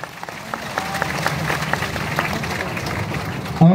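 Audience applause at a gathering, dense steady clapping from a crowd filling the space for several seconds, with a louder burst right at the end.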